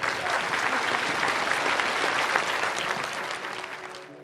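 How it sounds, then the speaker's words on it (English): A roomful of people at a talk on changing beliefs bursts into dense, steady applause that stays loud and alone for about four seconds before tapering off at the end. "give her a hand of applause"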